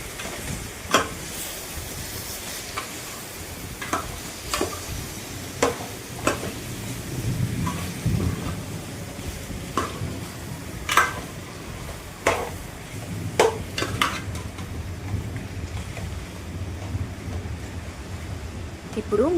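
Chicken pieces coated in ginger garlic paste and turmeric being stirred in a pan, with repeated sharp utensil clinks and scrapes over a low sizzling bed.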